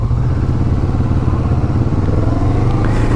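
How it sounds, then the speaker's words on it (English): A 2016 Kawasaki Vulcan S motorcycle engine rumbles steadily and loudly while being ridden, a continuous low drone with slight clatter and no speech. "this bike doesn't have any problem getting up to speed"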